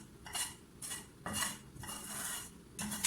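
A utensil scrapes and clatters against a non-stick pan while bread rabri is stirred over a low flame. The metallic strokes come in repeated bursts with short pauses between them.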